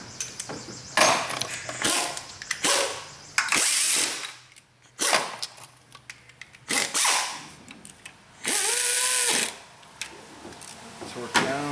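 Ratchet clicks in short bursts while 10mm bolts are tightened on the lower intake manifold of a Dodge Caravan or Chrysler Town & Country minivan, close and fairly loud, alternating with talk.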